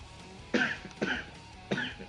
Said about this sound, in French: Excusez-moi encore de tousser